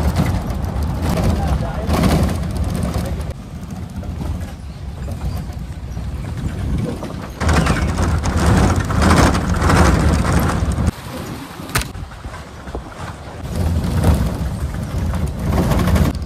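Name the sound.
jungle safari vehicle driving through forest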